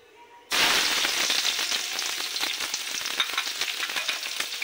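Onions drop into hot cooking oil already crackling with cumin, setting off a sudden loud, dense sizzle that holds steady with small popping spatters, close up and with no voices.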